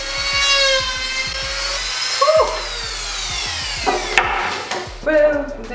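Wood pieces are cut in half with a power tool, giving a steady high whine, rapid low rhythmic thumps and a few sharp bursts as the blade bites, loud and close.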